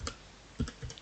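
Computer keyboard typed on while coding, a few sharp close clicks and a firmer keypress for enter, spaced irregularly over a quiet background.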